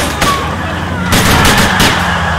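Gunfire in Grand Theft Auto 4, a dense run of sharp shots and bursts with a louder volley midway, loud and close over a busy game soundscape.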